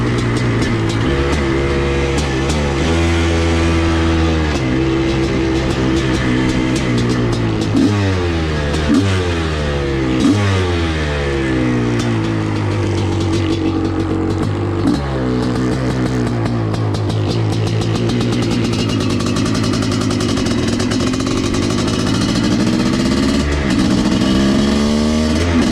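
A Honda CR500 dirt bike engine revs hard over and over, its pitch sweeping up and dropping back in repeated throttle blips, loud and close throughout with no talk over it.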